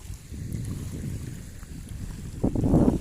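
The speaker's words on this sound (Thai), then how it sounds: "ลมพัดเย็นมากครับ" Evening wind blows across a reservoir, a low rumbling buffet with gusts that swell and rise sharply toward the end, fairly close and unbroken.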